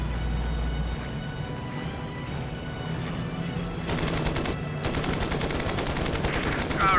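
Aircraft cannons and machine guns fire in a flight combat video game, a plane armed with two cannons and four machine guns; dense, sustained rattling bursts run loud through most of the stretch, with brief gaps.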